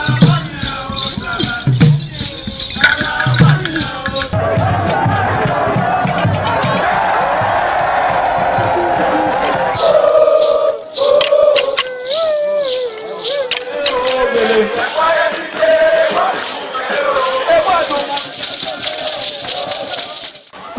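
A loud crowd cheers and whoops as the Oba of Benin steps out for the Isoton rites of his late mother, the roar rising and falling over many seconds, blended with voices, music and rattling.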